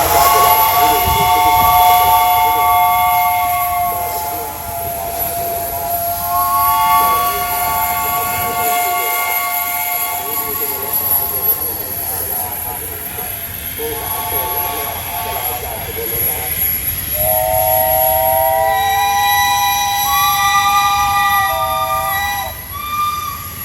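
A steam locomotive running light comes out of a tunnel and pulls into a crowded Thai station platform. It gives a long sustained whistle over a steady hiss and rumble, with crowd noise underneath.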